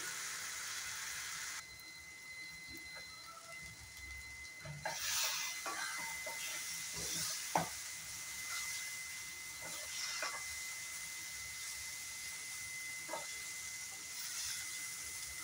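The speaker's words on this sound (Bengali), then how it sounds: "আবার 2-3 মিনিট খুব সুন্দরভাবে মশলাগুলো ফ্রাই করে নেব।" Masala spices frying in a pan for dhaba-style chicken masala, a steady close hiss of sizzling oil broken by scattered clicks and scrapes of stirring, with no talking.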